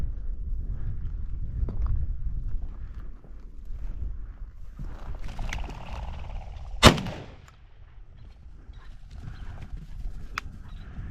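A single sharp shotgun blast rings out during an outdoor chukar hunt, loud and close, with quieter rustling and movement before and after.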